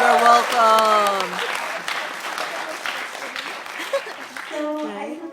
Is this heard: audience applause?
yes